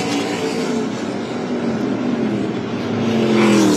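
Race cars from the ARCA Menards Series West at Irwindale roar past the start-finish line, a loud continuous engine drone with a slowly shifting pitch that swells toward the end.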